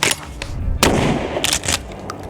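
Shotgun blasts fired outdoors through an unchoked barrel, testing FPV drone-hunter cartridges, a sharp report followed by a second powerful boom, with a few fainter shots trailing after; no talking.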